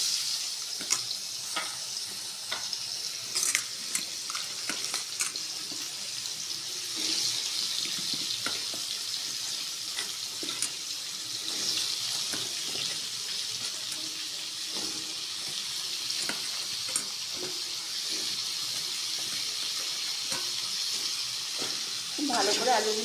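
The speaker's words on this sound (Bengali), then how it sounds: "ভালো করে আলুগুলোকে একটু ভেজে নিতে হবে" Potatoes coated in salt and turmeric fry with two bay leaves in hot oil over a medium flame for a Bengali rui fish-head potato curry, giving a steady broadband sizzle with scattered clicks and scraping sounds throughout.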